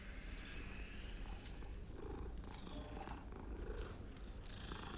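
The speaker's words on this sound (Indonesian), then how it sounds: "Kucing." A cat in Hogwarts Legacy purrs in a close, steady, low rumbling drone that continues throughout, with faint background game sounds above it.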